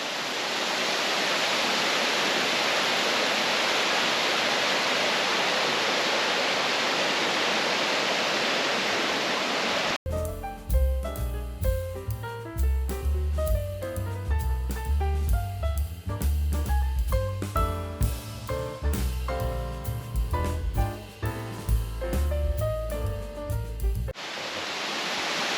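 A waterfall roars as a steady, dense wash for about ten seconds and again at the very end, while the stretch between is taken over by music.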